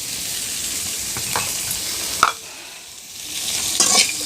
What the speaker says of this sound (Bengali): এখন এটাকে ভালো করে নেড়ে চেড়ে বাদামি ব্রাউন কালার করে ভেজে নিচ্ছি